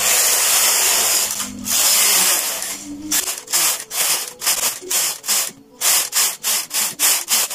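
A knitting machine working rows of a sweater: a long continuous whirring sweep is followed by a series of rapid, evenly spaced sliding passes of the carriage, close and mechanical, with no talking.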